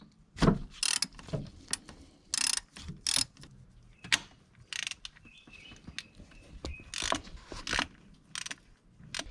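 Ratchet with an extension and a 3/4 to 1/4 inch drive adapter used while fitting a thermostat gasket on a 2014 Chevy Cruze: irregular bursts of mechanical clicking and clattering, fairly close, with handling knocks between them and no talk.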